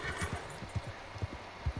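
Steady hoof clops from horses in Red Dead Redemption, several evenly spaced beats, clear and fairly close, with no talking.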